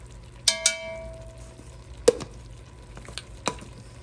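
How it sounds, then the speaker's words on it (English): Spinach frying with spices in a pan for a turnip and spinach dish, with a soft ongoing sizzle under a few sharp metallic clinks and scrapes of a utensil stirring against the pan, close by and without talking. "he's going to add spinach and fry it a little bit, and then we'll add our spices"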